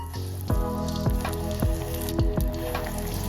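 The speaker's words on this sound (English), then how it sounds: "We're gonna start frying the Jacksmelt." Jacksmelt fish sizzle and crackle frying in hot vegetable oil, with a few soft thumps spaced at roughly regular intervals.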